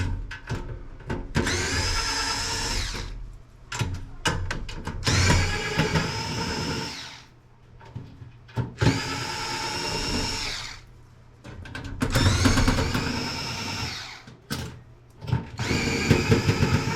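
A power drill whirs in repeated bursts of several seconds each, unscrewing the screws from a Denon receiver's casing, close and loud, with short gaps and faint clicks between runs.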